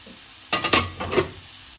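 Beef frying in a pan for Goan beef pickle (balchao), a short close burst of sizzling and stirring scrapes after a moment of quiet, no talk.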